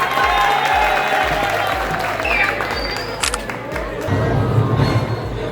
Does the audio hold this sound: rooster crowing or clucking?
no